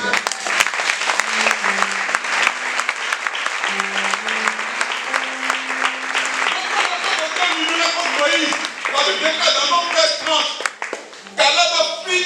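A church congregation breaks into loud, sustained applause that fills the room, with voices calling out and a speaker talking over the clapping near the end.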